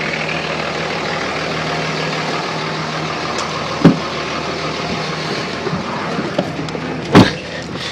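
A Cummins diesel pickup truck rumbles on the move, a steady low engine drone heard from inside the cab with two brief sharp knocks or clunks standing out, no talking.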